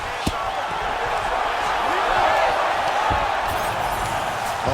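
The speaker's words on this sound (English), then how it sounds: "crowd pops as she reverses position" Arena crowd in EA Sports UFC 5 roars loudly and steadily during a women's bout, a dense sustained wash of cheering with a few sharp impacts near the start.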